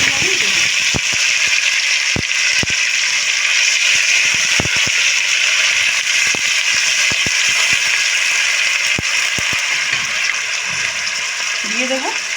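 Onion and tomato paste sizzling in hot oil in a kadai with bay leaf, cooking for a mustard tilapia fish curry; a steady, loud frying hiss runs throughout with scattered sharp pops and crackles, and a voice talks briefly near the end.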